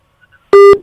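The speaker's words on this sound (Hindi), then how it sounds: "तो फोन कट गया।" After a faint pause, a loud telephone disconnect tone sounds, two steady electronic beeps in quick succession, the second cut off at the end.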